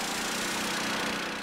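A wakeboard winch engine runs at a steady idle, a close, even mechanical drone with a buzzing, lawn-mower-like tone at a lake marina, alone and unchanging.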